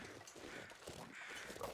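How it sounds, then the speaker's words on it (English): Crows caw in the survival video game The Long Dark, several harsh calls coming faint and distant over wind. "I hear crows."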